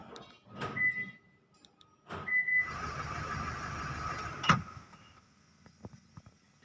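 An Isuzu pickup answers its remote key with two short electronic chirps, followed by a steady motorized whir that ends in a solid clunk.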